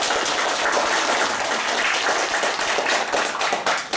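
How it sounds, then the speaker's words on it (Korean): A church congregation applauds a student accompanist during a worship service with steady, fairly loud, close clapping that continues for the full four seconds with no speech. "우리 박수 한번 보내줄까요?"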